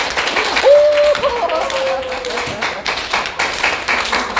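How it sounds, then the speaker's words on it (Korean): Church congregation in Ansan applauding during a new-members class, a steady patter of clapping from many hands under continuous loud talk, with a brief tone sounding early on. "박수 한번 쳐요."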